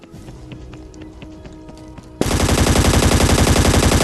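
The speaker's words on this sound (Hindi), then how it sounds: "उसी वक्त मेरे पीछे कुछ गोलियां चलती हैं" After a quieter stretch, loud rapid gunfire in the video game ScarFall 2.0 suddenly erupts, a continuous automatic burst that fills the rest of the clip.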